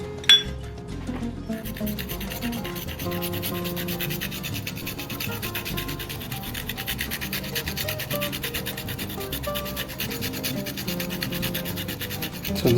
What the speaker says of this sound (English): this is actually the wasabi grater, the fresh wasabi grater, what I'm using for fresh turmeric